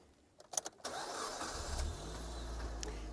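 A safari vehicle's engine starts with a few sharp clatters of cranking, then settles into a steady, close, low rumbling idle that carries on to the end with no talking.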